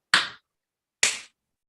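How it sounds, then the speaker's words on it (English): Two separate sharp hand claps roughly a second apart, close and crisp with quick decay and silence between them. "Steve, tell us when you hear the clap."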